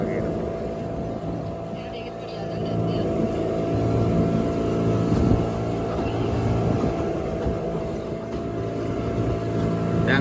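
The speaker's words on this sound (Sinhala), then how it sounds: "එතකොට මේ බෝට්ටුව පොඩ්ඩක් ගැස් වෙනවා වගේ." A motorboat's engine drones steadily throughout, a loud continuous low hum with tonal bands that swells slightly midway, heard from on board with no clear talk over it.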